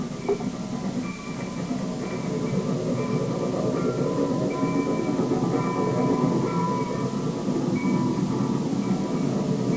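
A Maine Central diesel train arriving at Brunswick Station rumbles steadily nearby, with a heavy low engine drone, rolling wheel noise and faint metallic squeals throughout.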